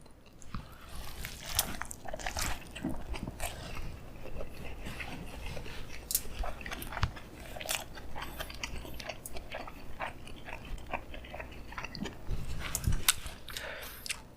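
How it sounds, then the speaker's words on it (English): Faint, close biting and chewing on a Korean Burger King Hell Whopper with bacon jam and bacon, soft crunches and wet squishes in an irregular rhythm, alone without talk. "So going for another bite."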